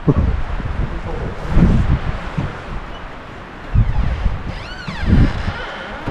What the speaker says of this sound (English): It's windy and blowing snow.